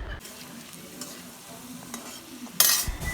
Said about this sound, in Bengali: আলুটা একটু লাল লাল করে ভেজে নিতে হবে